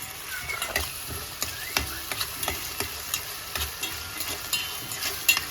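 Masala being stirred and fried in a pan: close, repeated scraping strokes of a spoon against the metal over a steady sizzle, with no talking.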